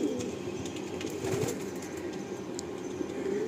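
Lalsira pigeons at a loft, with soft cooing and brief bursts of wing flapping, fairly quiet and close, steady low murmur throughout with no talk.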